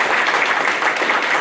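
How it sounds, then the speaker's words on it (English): A brief burst of audience clapping at an Irish folk singer-songwriter's show in Orion Township, even and moderately loud throughout its short span. "let's give a round of applause to our Orion Township"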